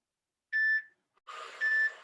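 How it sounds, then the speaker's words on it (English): Two electronic beeps from a workout interval timer during a fitness class, a short clear tone followed by a longer, louder beep over a brief burst of background noise. "There's our timer."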